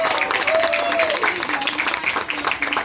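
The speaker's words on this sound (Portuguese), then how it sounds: "Uma salva de palmas para essa mãe." An audience at a talk on Black literature and ancestry claps for a mother, a continuous patter of applause mixed with a voice and other sounds rising over it.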